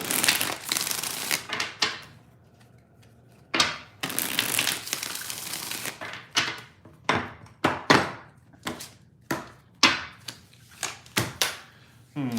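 Tarot cards shuffled by hand, a couple of long riffling bursts followed by a string of sharp taps and smaller shuffles, close and distinct, no talking.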